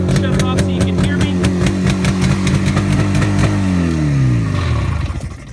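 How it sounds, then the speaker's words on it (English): A 1968 Suzuki T500 Cobra two-stroke motorcycle, its engine fully rebuilt, idles high while still cold with a loud, close, rapid pulsing beat, then winds down as it is shut off. "Little high idle because it is still cold."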